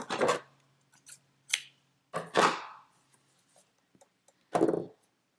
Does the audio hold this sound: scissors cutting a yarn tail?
yes